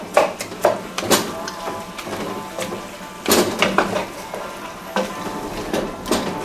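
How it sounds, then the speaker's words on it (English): Pork browning in a pot for a jambalaya, with faint sizzling and frying under intermittent clinks and scrapes of a utensil stirring the pot, close by. "that's browning down on its own with no help from me."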